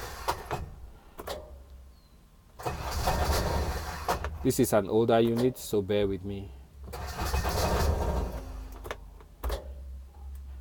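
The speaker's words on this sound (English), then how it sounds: "you crank a little bit without really starting the engine" An Intimidator 2500 Truck Series diesel UTV engine cranks with a rapid rhythmic churn, then catches and settles into a rough idle, while someone talks nearby before and after.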